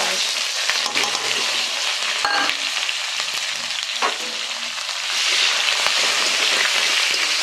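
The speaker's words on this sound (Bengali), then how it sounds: "এবার একটু পেঁয়াজটা ভালো করে ভাজা হোক" Chopped onions frying in hot oil for a Bengali cabbage and fish-head ghonto, a loud, dense, continuous sizzle close by, with occasional spoon scrapes and clinks against the pan and a slight rise in intensity near the end.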